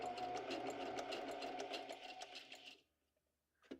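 A sewing machine stitches the binding of a junk journal in a fast, even, close chatter for nearly three seconds. It stops abruptly, followed by a short soft knock.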